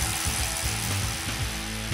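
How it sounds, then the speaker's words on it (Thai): Hand drill boring into a rock cliff face to set climbing bolts, a steady loud mechanical grinding with a rattling, ratchet-like pulse running without pause. "ขั้นตอนต่อไปก็จะใช้สว่านมือเจาะเข้าไปที่หน้าผาครับเพื่อทำการฝังโบว์"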